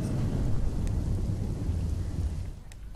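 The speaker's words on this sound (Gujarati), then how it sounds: "વાપીમાં વરસાદી વાતાવરણ જામ્યું છે" Heavy monsoon rain pours down in Vapi, Gujarat, a dense continuous roar, with deep rolling thunder rumbling underneath for the whole stretch.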